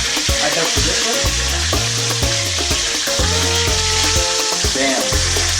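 Boneless fish fries in hot oil with a loud, close, steady sizzle, and spatula knocks and scrapes come through from time to time.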